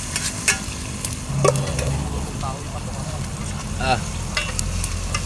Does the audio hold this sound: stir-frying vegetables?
yes